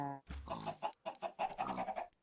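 A Minecraft chicken clucking, a short run of several quick clucks and squawks close up, clear and alone.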